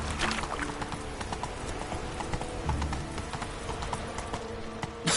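Roach the horse in The Witcher 3 trotting with steady, rhythmic clip-clopping hooves, close and even-paced over several seconds, with faint game ambience behind.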